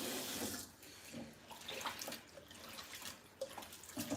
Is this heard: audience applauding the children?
no